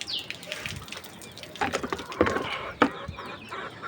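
Desi chickens clucking and calling nearby in summer heat, a few irregular sharp clucks and a brief flutter over a busy low background.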